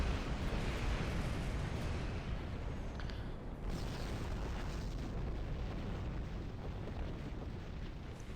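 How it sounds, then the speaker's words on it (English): A large explosion in the space video game Star Trek Online roars as a continuous loud, broadband rumble that fills the whole stretch without any talk. "Explosion!"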